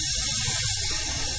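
Cleaner spray hisses loudly from a can into the open throttle body of a Honda V6, one steady close burst running without pause.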